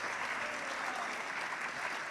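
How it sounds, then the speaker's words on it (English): Audience applause at a college convocation, a dense, even roar of many hands clapping at moderate volume throughout, with no voices over it. "Let's give them a hand of applause"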